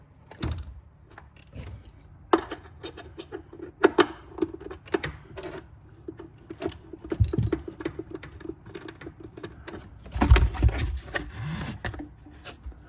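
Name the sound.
loosening 10 mm bolts on Porsche Cayman 981 intake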